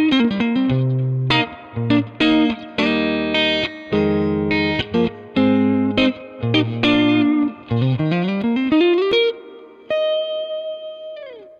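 An electric guitar plays through a Mesa Boogie JP2C head in an open-back 1x12 cabinet, loud and close, with punchy rhythmic chords and riffs full of effects and distortion, ending on a sustained ringing note.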